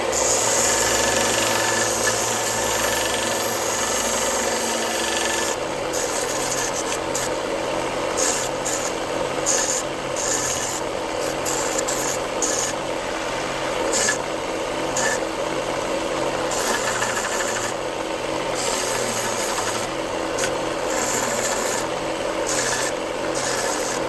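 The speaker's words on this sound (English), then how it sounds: "all I got to do is sand it down to the width of the knife" A power sander grinds down cedar wood handles fitted to a vintage Camillus pocket knife, a loud, continuous motor drone with rough, fluctuating rasping as the wood is worked, steady throughout with no talk.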